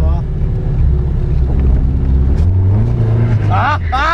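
A Chevrolet Chevette's engine revs hard and holds a high, droning pitch as the car drifts using only the clutch and throttle, with a rising whine near the end and people talking over it.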